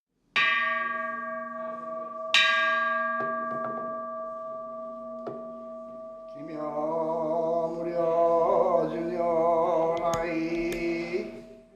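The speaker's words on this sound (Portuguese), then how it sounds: "O sino de ferro foi trazido do Japão em 1975." An iron temple bell brought from Japan rings at a Buddhist temple in Açaí, Paraná: a few loud struck tolls with long, steady humming decay, then a busier chiming layer of overlapping tones builds toward the end.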